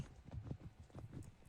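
Horses clip-clop at a steady walking rhythm during a beginner riding lesson, quiet and a little distant, with soft murmuring in the background.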